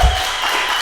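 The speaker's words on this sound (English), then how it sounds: "Round of applause for Harley." A studio audience gives a brief round of applause at the close of a talk show, a dense, even wash of clapping holding steady throughout.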